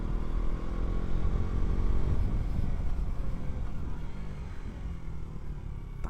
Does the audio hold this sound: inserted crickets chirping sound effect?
no